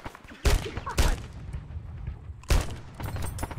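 Incoming gunfire in a chaotic video game battle near a forward bunker: sharp loud bursts at irregular intervals over a constant rumble of combat, with heavy booming impacts and rattling shots in between.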